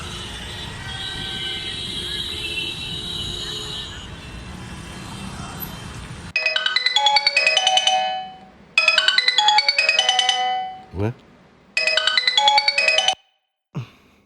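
An electronic phone ringtone plays in three repeated bursts with short pauses, following a stretch of steady background noise.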